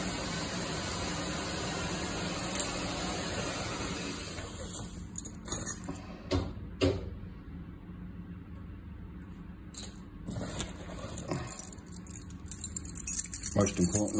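A lift engineer's drop key, a cabinet opener used for accessing the lift shaft, jangles on its ring in a few brief metallic bursts over a steady background hum.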